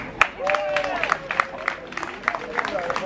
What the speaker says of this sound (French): Est-ce que s'il vous plaît on peut applaudir Lilou?